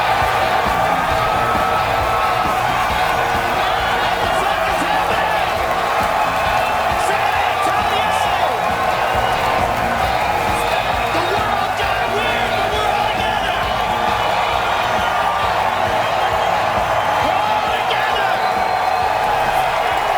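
A huge crowd at a Joe Rogan comedy special cheers and whoops in a steady, loud roar that never lets up, with applause blended into a dense wash of voices.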